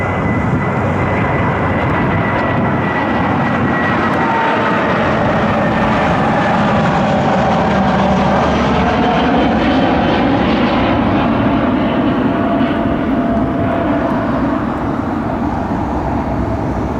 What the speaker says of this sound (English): Delta 2970, it's an Airbus A320 inbound from Atlanta